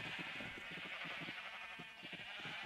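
Sheep bleating in Minecraft on a wool farm, a series of short repeated blocky bleats over a steady game background, with no talking.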